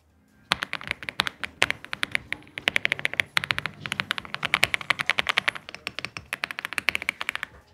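Quick, muffled keystrokes tap out at a steady typing pace on a quiet Aula F75 mechanical keyboard with five-layer padding, close up, with soft thuddy clicks and no talking.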